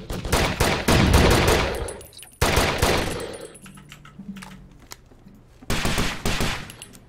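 Bursts of gunfire in the tactical shooter Takedown: Red Sabre, loud rapid volleys in three clusters separated by quieter stretches of scattered shots and background game noise.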